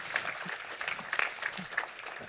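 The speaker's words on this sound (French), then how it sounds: "On peut applaudir Xavier Comtesse, président de" Audience applause at a conference talk, brief scattered clapping at low level under a voice speaking over it.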